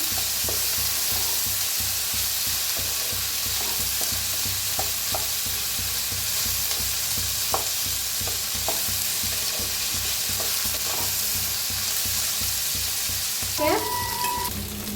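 Onion and tomato frying in a pan for a quick masala rice, a loud steady sizzle with occasional stirring clicks and scrapes, close up and continuous, ending with a brief clatter.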